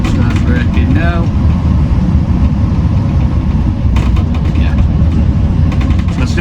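Mercedes Econic truck with a brake fault driving and braking, a steady loud low engine and road rumble running throughout with no clear change, and a voice talking faintly over it.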